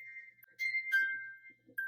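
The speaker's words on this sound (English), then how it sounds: "You can see the little music box here." A small Winnie the Pooh music box plinks out the tune This Old Man in thin, bell-like tinkling notes, faint and close, with no voices.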